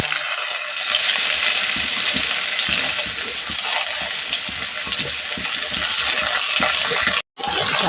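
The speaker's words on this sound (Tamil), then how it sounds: "கடுகு பொடிஞ்ச பிறகு வெங்காயம் போட்டுக்குவோம்" Onions fry in hot oil after mustard seeds have spluttered in a home kitchen, a loud, steady sizzle with scattered crackles and occasional stirring clatter, close and continuous before a brief drop near the end.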